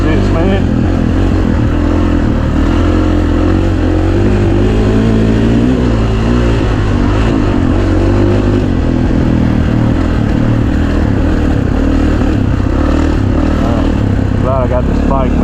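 A 2019 Kawasaki KX450 dirt bike being ridden during break-in roars continuously and loudly close by, its engine rising and falling as it accelerates and eases off, with some clatter throughout.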